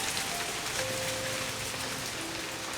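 Steady rain falling on a remote island survival camp, a dense continuous patter on surfaces with faint tonal hums underneath, alone without voices.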